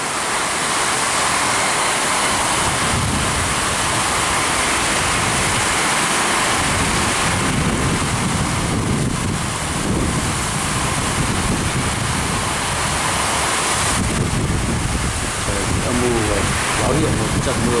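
Heavy rain pours down steadily, a loud, dense and continuous roar of downpour seen falling in the distance from the fourth floor of a building.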